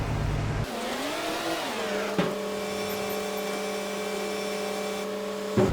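A tractor pulling a trailer in Farming Simulator drives off to unload, its engine rising and falling in pitch and then settling into a steady hum as it cruises.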